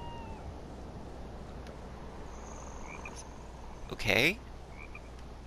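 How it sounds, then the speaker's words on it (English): A frog-like croak from the video game ZOMBI, a single loud, close, squeaky call resembling a kitten's mew near the end, heard over a steady low game ambience with faint chirps. "I hear frogs, but it sounds like a little kitten."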